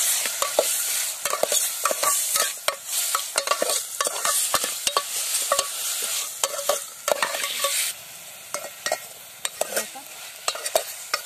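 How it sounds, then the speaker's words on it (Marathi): Mutton rubbed with turmeric and salt being stirred with fried red onions in a pot over a village wood-fired stove, busy scraping and clinking strokes over a steady sizzle, close and continuous. "आता आपण ही हळद मीठ लावलेलं मटण ह्यात टाकूया. चांगलं असं हलवून घ्यायचं."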